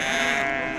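Sheep bleat continuously at a Moroccan rural weekly souk in Aglmous, where ewes and rams are sold; a close, loud, sustained cry fills the short moment with no talk over it.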